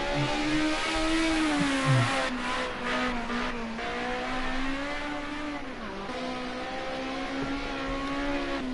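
A Group A touring race car drives through a corner at Snetterton circuit, its engine note rising and dipping in a steady, loud drone as it accelerates off the exit, with a little drift.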